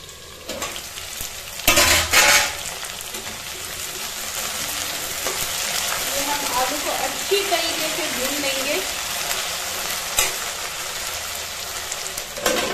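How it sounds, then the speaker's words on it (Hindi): Potatoes fry in a pan for a traditional Mithila biriya vegetable dish, giving a steady, close sizzle throughout with a couple of louder utensil stirring bursts early on. "ये थोड़े देर के लिए हम आलू फ्राई होने के लिए"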